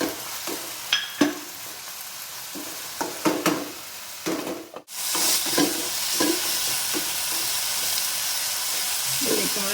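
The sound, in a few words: crushed garlic and green chilli frying in a pan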